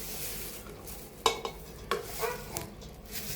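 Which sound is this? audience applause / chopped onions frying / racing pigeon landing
chopped onions frying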